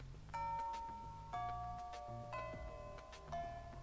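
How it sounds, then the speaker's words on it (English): A school bell chime in the video game Fate/Extra, a melodic sequence of four clear ringing tones at a steady pace, each sustaining briefly before the next, with no talking. "The bell rings."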